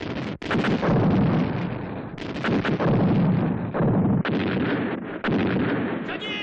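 Artillery pounds continuously in a Chinese war film battle scene, with dense, loud, overlapping booms and blasts that come in rolling bursts with almost no pause.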